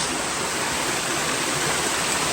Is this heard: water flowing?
yes